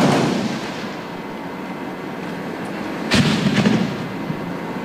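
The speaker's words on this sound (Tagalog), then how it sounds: "Nagpatuloy ang palitan ng putok." Gunfire traded between soldiers and rebels during street fighting with tanks supporting ground troops, heard as a steady rumble of distant shots with a sharper, louder burst near the middle.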